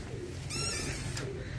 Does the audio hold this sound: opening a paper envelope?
no